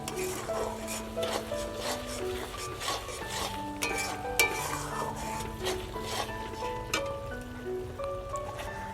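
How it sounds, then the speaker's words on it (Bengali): A spoon scrapes and clinks against a pot as chicken with chili powder is stirred, giving a busy metallic rubbing with frequent small knocks, fairly quiet and without speech. "এবার এটা ভালোভাবে মিশিয়ে নেব"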